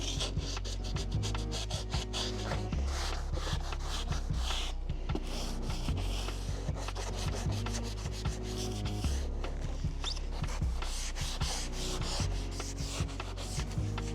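A cloth soaked in alcohol rubs back and forth along the gluing flange of a van's insulated side sleeper pod, making steady, close scrubbing strokes in a repeated rhythm.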